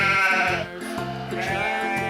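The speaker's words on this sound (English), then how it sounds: "Down below them are some sheep." A toy farm animal sheep plays a recorded bleat, a loud, close, wavering baa repeated in quick pulses across two seconds with no other sound.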